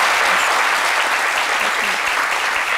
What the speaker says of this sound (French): nous allons une nouvelle fois vous applaudir ici en plateau